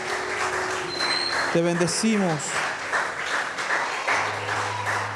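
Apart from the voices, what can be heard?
church congregation applause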